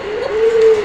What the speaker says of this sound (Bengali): পাশরাস কক এটা সারাক্ষণ শুধু ডাকতেই থাকবে,